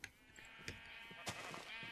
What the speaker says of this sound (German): Unsere ganzen Schafe hier.